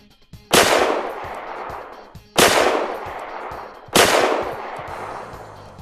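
Three single heavy gunshots from an M249, each a sharp loud crack with a decaying tail, spaced about one and a half seconds apart in a video-game setting.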